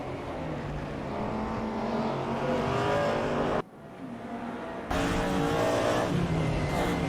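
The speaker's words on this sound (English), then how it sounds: "Listen to those V8 engines of the Audi, they sound glorious" Naturally aspirated Audi V8 race car engines at a DTM 1992 revival race at Zandvoort roar continuously at high revs, loud and close, with a brief abrupt drop before the full roar returns.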